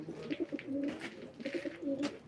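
Pigeons coo in soft, repeated throaty bursts, fairly close on a rooftop terrace at a live pigeon auction, with a few brief higher chirps mixed in; no voices.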